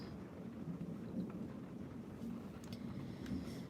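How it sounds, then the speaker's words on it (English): Soft rain falls steadily at a distance as a faint, continuous wash with a low rumbling underneath, and no one speaks. "just listening to the sounds of the rain"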